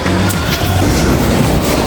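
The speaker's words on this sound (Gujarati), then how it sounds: "આવી ગયો આપણી મેટ્રો" A metro train rumbles in close by, a loud, dense roar of wheels and motor filling the whole moment.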